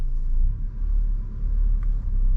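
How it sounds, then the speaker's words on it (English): A 2022 Ford Bronco Badlands with a seven-speed manual creeps along in crawler gear with no throttle, its engine giving a steady, close low rumble that holds even throughout. "Let me just let out the clutch and see if it drives itself without any gas."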